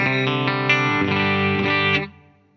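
Electric guitar through a Fender Mustang Micro headphone amp on the '65 Twin setting with compressor and hall reverb, a loud even phrase of picked chords ringing out into a reverb tail.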